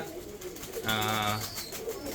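A breeder pigeon gives a single close, clear coo, surrounded by low background noise and a murmur of talk.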